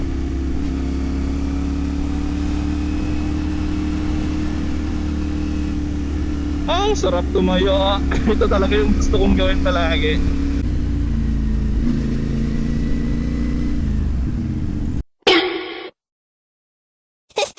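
A CFMOTO 450 MT adventure motorcycle hums steadily while being ridden, its engine a constant close drone. A rider talks over it in the middle, and the sound cuts out abruptly near the end.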